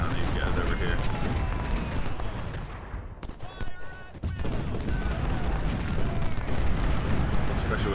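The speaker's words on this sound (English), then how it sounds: "Now, these 24-pounders, I need you to stay firing on these guys over here." 24-pounder cannons fire in the Ultimate General: Civil War game, with dense booming artillery and gunfire rumbling continuously, briefly dropping around the middle before swelling loud again.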